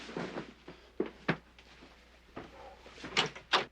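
A door being opened indoors on a 1985 sitcom set, heard as a few sharp knocks and clunks of the latch and frame spread across the clip, fairly close and with no talking.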